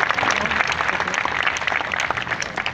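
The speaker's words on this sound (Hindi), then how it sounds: "एक दफा भरपूर तालियां आसिफ साहब के लिए भी।" A crowd at an iftar dinner award ceremony for municipal employees in Attock City, Pakistan claps steadily and densely throughout, with no voices on top.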